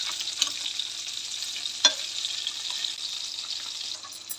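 Prawns for a crispy prawn roast sizzle in a pan right after being flipped, a steady moderate frying hiss with a brief clatter near the middle and no talking.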